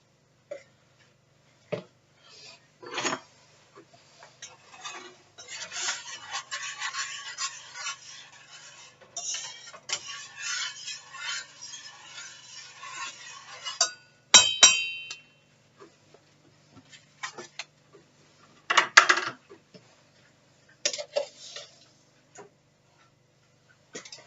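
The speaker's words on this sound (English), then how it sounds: "While you're sitting here stirring in your borax" A spoon stirs borax into liquid in a container, giving scattered clinks and scraping taps against the sides, alternating with quiet gaps and a few sharper knocks.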